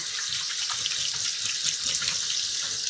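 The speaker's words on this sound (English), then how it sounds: "So we're going to wash our hands." Running tap water splashes steadily into a sink while hands are washed, a continuous close hiss and patter with no talking.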